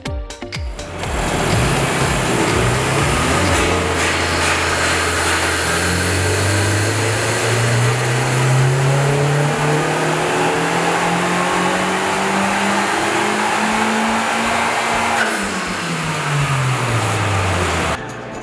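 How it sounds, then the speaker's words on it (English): A stock Honda Civic Type R running on a dyno, exhaust droning loud and steady as the engine pulls up through the revs, rising in pitch over many seconds before easing off near the end. "the quiet purr of the Civic Type R's exhaust"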